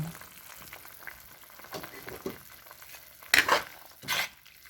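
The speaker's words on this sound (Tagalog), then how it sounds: "O hindi, haluin muna natin." Chicken liver adobo sizzles in a frying pan while being stirred, with a soft steady fry punctuated by two louder scraping bursts of the spoon toward the end.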